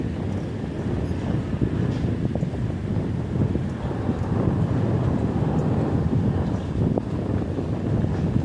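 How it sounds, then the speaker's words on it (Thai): Strong, dry late-morning wind in Nakhon Phanom roars continuously and buffets the microphone, a dense, steady rumble that runs unbroken from start to finish. "ลมแรงลมแรง ลมแห้งดีครับ"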